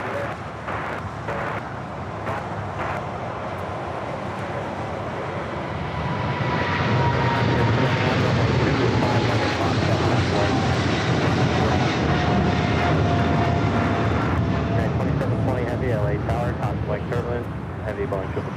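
A heavy Boeing 777 freighter departs LAX, its jet engines rising into a loud, sustained roar that swells midway and holds steady, with faint radio chatter in the background.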